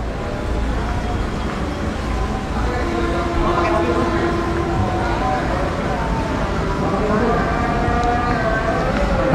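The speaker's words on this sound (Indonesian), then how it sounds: "Nah ini situasi stasiun Surabaya Gubeng ya." Busy ambience at Surabaya Gubeng train station: a dense wash of crowd chatter and station noise, with a held tonal horn or whistle and other rail sounds mixed in, while a person talks over it.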